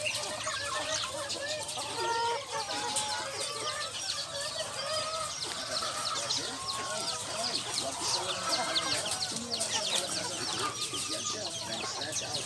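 Rhode Island Red and native chickens in a farmyard, many hens clucking and calling together in a busy, continuous chatter, with a person talking quietly underneath.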